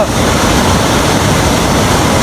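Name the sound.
water falling down a stream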